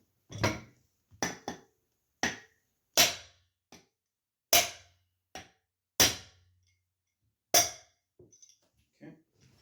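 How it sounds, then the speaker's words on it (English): Sharp metallic strikes ring out one after another, about ten irregular blows of a large crescent wrench hammering a nut off an exercise bike pulley, close and loud with brief pauses between. "I have my big giant crescent wrench. So, I'm going to go ahead and hammer this off."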